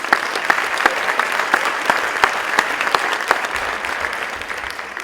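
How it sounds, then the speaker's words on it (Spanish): An audience claps steadily for several seconds, a dense, loud wash of applause with a few sharper individual claps standing out. "fuerte el aplauso nuevamente"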